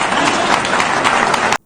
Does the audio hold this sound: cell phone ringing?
no